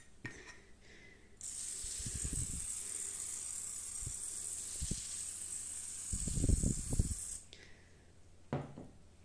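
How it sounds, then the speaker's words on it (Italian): An oil sprayer for an air fryer releases a long continuous hiss of spraying oil, lasting several seconds at steady moderate loudness, framed by soft handling bumps and clicks before and after. "riesce a spargere l'olio sulla superficie senza essere violento"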